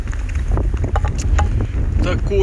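Strong wind on high mountain ridges along the road to Drahobrat, Ukraine, roars and buffets the microphone in heavy low rumbling gusts, with brief scattered sounds over the top and no clear speech.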